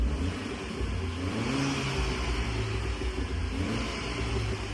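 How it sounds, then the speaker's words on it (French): A Renault Clio 4 RS engine in RS mode revs steadily at raised idle, a continuous mid-pitched drone with shifting harmonics and no voices over it. "on va passer en mode RS, donc ce qui ouvre pas des clapets mais qui augmente le régime moteur"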